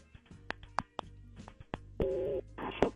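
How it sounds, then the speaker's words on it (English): A telephone dials out for a radio call. Several short tone beeps come in an uneven sequence, then two longer ringing tones, all fairly faint. "We'll make the phone call right now"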